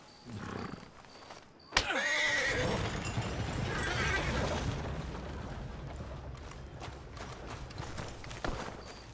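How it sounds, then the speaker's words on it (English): Video game horses: a horse whinnies loudly after a sharp thud, followed by rumbling movement and hooves, with another short neigh near the end, in Red Dead Redemption 2. "Ah, see these horses moving."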